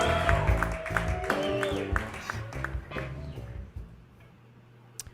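Crowd at a poetry open mic in Asheville claps and cheers for a performer, a burst of sharp claps and whoops that thins out and fades toward the end, with a voice briefly mixed in.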